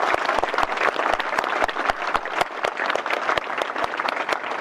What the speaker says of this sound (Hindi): तो बहुत बहुत जोर से ताली बजाना